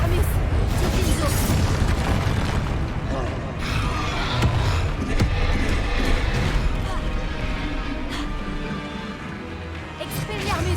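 Confringo blasting spells go off in the video game Hogwarts Legacy as a dense, loud run of booming explosions over continuous game noise and music.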